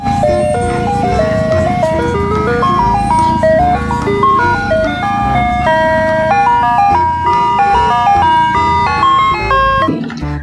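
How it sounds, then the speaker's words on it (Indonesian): A toy ice cream truck plays its tinkling electronic jingle loud and near, a steady looping melody over a constant buzzing hum, continuing without pause and with no one talking. "Yang ini ada mobil es krim."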